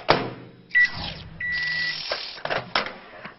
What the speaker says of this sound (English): then melt it in the microwave, taking it out to give it a bit of a stir every now and again